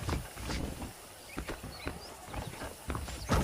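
Horse hooves clip-clop at a steady walking pace nearby in the video game Red Dead Redemption, with faint ambient outdoor noise behind them.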